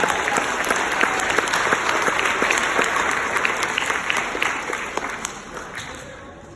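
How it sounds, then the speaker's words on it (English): An audience at a high school freshman orientation claps for student volunteers, a full steady round of applause that thins and fades toward the end. "So a big round of applause for our students."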